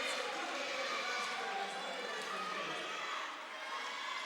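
A gym crowd at a high school basketball game between Vista Murrieta and Leuzinger gives off a dense, steady roar of cheering and voices, loud and continuous with only a slight dip near the end.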